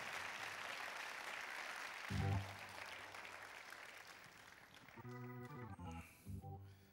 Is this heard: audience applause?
yes